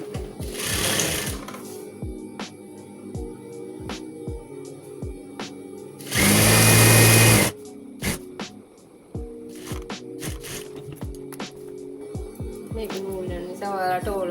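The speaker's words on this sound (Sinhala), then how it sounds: "දැන් අපි කරු හැඩේ මහන්න." Sewing machine stitching fabric in steady rhythmic bursts of needle clatter, close and clear, with one louder whooshing burst in the middle and short pauses between runs.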